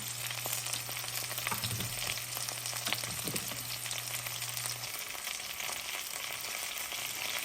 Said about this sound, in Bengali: আমি পেঁয়াজ দিয়ে দিয়েছি, এখন গরম মশলা দিয়ে দেবো